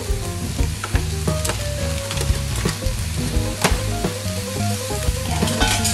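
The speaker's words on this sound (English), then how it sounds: "I'm going to add the mince once your pan has it up" Minced meat hits a hot frying pan for a slimming lasagne and sizzles loudly and continuously with crackling spits, close up, over a steady tonal hum in the background.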